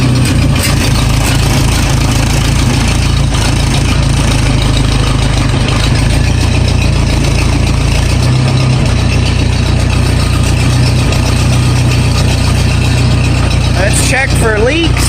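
Close and loud, an engine idles steadily after an oil change, a constant rumble running the whole time, with a brief higher squeal near the end.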